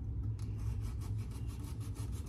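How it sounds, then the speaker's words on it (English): A knife saws back and forth through pizza cupcakes in a steady rhythm of rasping strokes, close and soft, about a dozen strokes alone with a low background hum. "Maybe do a sawing action with a press through?"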